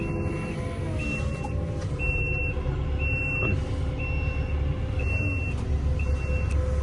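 A truck or tractor reverses while moving a large tree, its reversing alarm beeping in an irregular series of short tones over a low rumbling diesel engine, with no talking.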